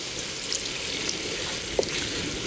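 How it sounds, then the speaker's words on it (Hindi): Water is added to beef liver cooking in a pan, giving a steady, even hiss and sizzle throughout with a few faint clicks and taps. "थोड़ा पानी ऐड करेंगे"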